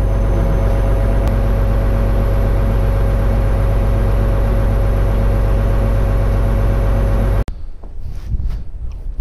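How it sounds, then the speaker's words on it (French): A farm tractor reversing a crop sprayer into a shed, its diesel engine droning steadily with a low, even rumble for several seconds before cutting abruptly to quieter rustling and knocks. "j'ai reculé le tracteur du coup, enfin j'ai rentré le pulvé en marche arrière"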